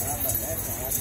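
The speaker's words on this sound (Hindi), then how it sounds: "घोड़े चल रहे हैं घोड़े" Horses walk on a rooftop at Eid time in Rawalpindi, their hooves giving light clip-clops beneath a voice.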